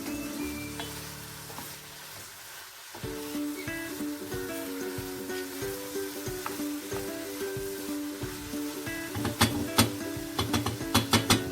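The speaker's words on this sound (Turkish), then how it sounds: "harcımın içine patlıcanlarını da ilave ediyorum. Bir karıştırayım. Bir, birkaç dakika kadar kavrulsun." Eggplant and minced meat sizzle steadily in a pan while a spoon scrapes and stirs, the clatter getting sharper and louder near the end.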